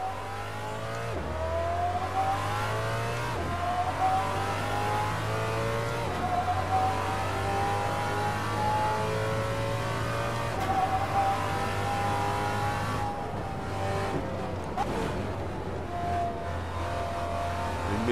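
A V8 race car on slick tyres in the video game Assetto Corsa revs hard through repeated upshifts, a loud continuous engine note rising and dropping with each gear change, heard alone without talk.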